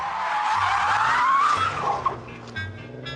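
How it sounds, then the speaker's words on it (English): Either an Audi TT Mk2 3.2 or a BMW Z4 3.0 power-slides through a cambered corner: a loud, sustained tyre squeal with engine noise swells and wavers, then fades into quieter squeaks. "Test 3, power sliding."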